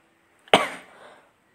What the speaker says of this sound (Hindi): यहाँ पर तो बहुत ही सर्दी है इसलिए मुझे खांसी है